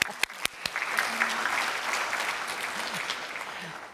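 Audience applause at a global trade forum: a few sharp individual claps at first, then a sustained, even round of clapping from the crowd, with a brief voice heard partway through.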